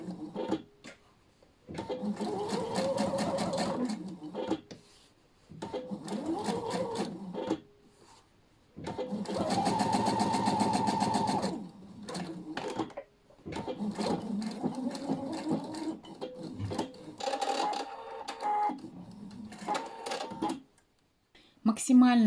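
A Pfaff Quilt Expression 720 sewing machine stitches in several steady whirring runs of a few seconds each, stopping between runs with the needle left down, as someone talks over and between the bursts.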